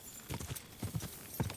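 Hooves clip-clop in a steady, moderately quiet rhythm of paired strikes as a horse walks nearby in a medieval-setting video game.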